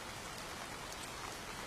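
Heavy rain pours down in a steady, dense hiss that stays even and fills the whole moment, with no voices or other distinct sounds.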